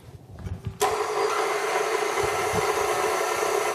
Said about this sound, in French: Et mettez en marche votre robot à vitesse moyenne.